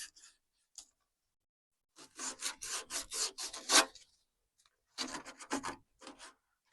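Abrasive rasping on the inside of a 1.5 inch plastic pipe elbow for a raised sleeper pond's air line, in two bursts of quick back-and-forth rubbing strokes, close and fairly loud, with brief pauses between.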